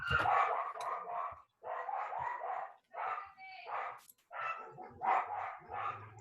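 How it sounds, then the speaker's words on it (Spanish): Small female dog barking in rapid bursts, several sharp yapping volleys separated by brief gaps, close and fairly loud, with a soft whimper between them. "Que ladra mi perrita."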